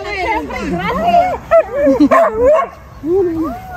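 A dog yips, barks and whimpers in a large backyard while people talk over it, the short high cries and whines rising and falling close by through the chatter.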